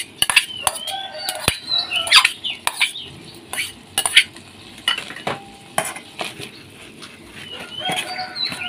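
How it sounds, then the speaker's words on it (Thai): Stirring a curry of crispy pork and fresh bamboo shoots, with irregular scraping and clinking of a utensil against the pot, close up, while roosters crow in the background. "คลุกเคล้านะคะส่วนผสมนะคะให้เข้ากันจ้า"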